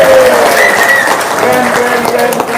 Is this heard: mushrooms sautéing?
no